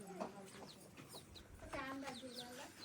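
Village chickens cluck in short bursts close by, mixed with faint voices and background household sounds.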